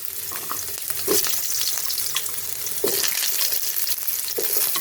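Potatoes sputtering in hot oil in a wok, a dense, steady frying crackle with occasional louder stirring scrapes, close and continuous with no voices.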